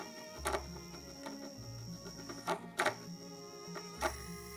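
A homemade electronic speed controller built for a drone drives a brushless DC motor, giving a quiet, steady electrical whine whose tones shift in steps, broken by several sharp ticks and clicks.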